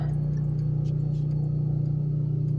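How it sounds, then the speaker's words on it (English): An off-grid homestead's water pump running nearby, a steady low electric hum with a fast, even pulsing throb and no other sounds over it. "And there goes the pump."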